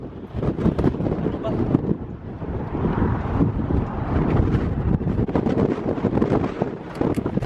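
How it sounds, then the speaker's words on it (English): Strong wind roars and buffets a microphone at a petrol station in Iceland, a steady broadband rumble that fills the whole stretch, with a person speaking over it. "Oh my god, it's so windy here."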